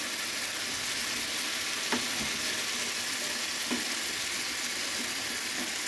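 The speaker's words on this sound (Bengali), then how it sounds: "অফ ক্যামেরাতে উল্টিয়ে পাল্টিয়ে ভালোভাবে কষিয়ে নিচ্ছি" Spring onion, tomato, green chilli and coriander being stir-fried together in a pan, giving a steady loud sizzle with occasional clinks of a spatula, with no voices.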